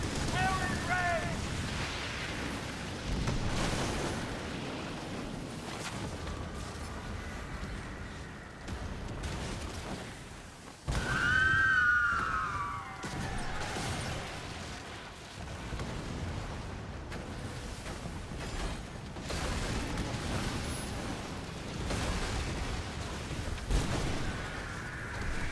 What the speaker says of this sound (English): Ready your cannons! Fire and rain!